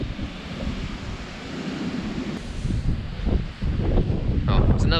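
Strong wind buffets the microphone on Pitcairn Island, a loud, steady rushing roar that swells toward the end, with a voice heard briefly under it.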